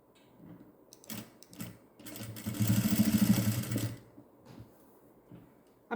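A sewing machine runs in short bursts while stitching a folded hem on a newborn baby's gown, with one longer, louder run in the middle and quieter intermittent stitching around it.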